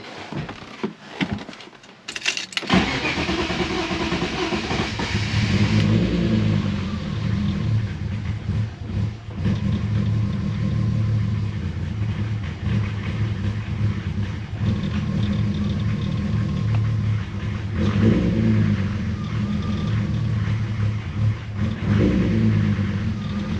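BMW E36 with an M50 intake manifold conversion cranking and starting up, then a steady rough idle with a low rumbling drone and occasional swells of revving, close and continuous.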